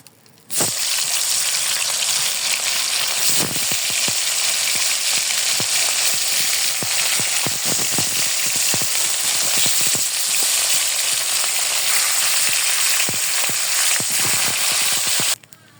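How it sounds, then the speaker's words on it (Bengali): Tilapia fish frying in oil left from browning onions, a loud dense crackling sizzle starting abruptly and holding steady with scattered sharp pops, then cutting off near the end, with no voices. "ওই তেলের ভিতর আমি মাছটি ভেজে নিব"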